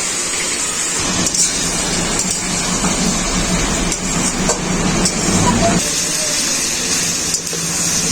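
A kitchen grinder whirs steadily as it blends soaked red chillies into a paste, a dense continuous mechanical roar that holds for several seconds.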